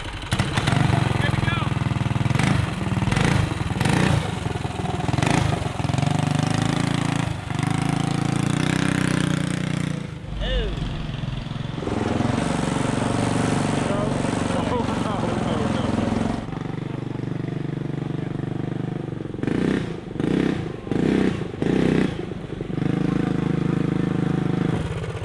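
Monster-truck-style go-kart engine revving and driving outdoors, loud and close, surging and dropping with throttle, briefly easing off midway, with people talking over it.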